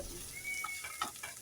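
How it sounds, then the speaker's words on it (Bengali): Spice masala for an egg and potato curry fries in a pan under a steady hiss, with a few soft scraping stirs as it is cooked down. "নেড়েচেড়ে কিছুক্ষণ কষিয়ে নেব।"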